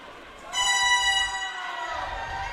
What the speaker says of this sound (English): that was the air horn for the last lap